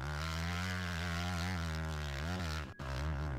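In the ATV Offroad Fury video game, a military jet gives off a steady, droning engine hum that holds throughout, with a brief dip near the end before it continues.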